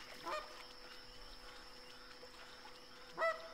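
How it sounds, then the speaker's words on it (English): A flock of geese honks faintly in The Hunter Classic video game at Piccabeen Bay, with a brief call near the start and a clearer honk near the end over a steady quiet hum. "That is a big flock of geese coming over."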